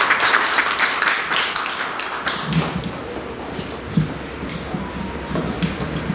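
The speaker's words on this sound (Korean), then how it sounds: "박수 한번 주세요." Audience applause at a Korean film association awards ceremony, a dense burst of clapping that fades over several seconds into scattered claps and light room noise.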